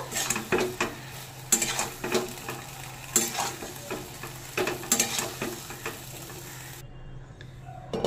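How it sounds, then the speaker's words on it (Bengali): Spices and a little water get stirred in a pan for a topshe fish chochori, a ladle scraping and clinking against the metal in a steady, repeated rhythm over a low sizzle, close and clear with no talking. "সামান্য একটু জল দিলাম। এবারে নেড়ে নেব।"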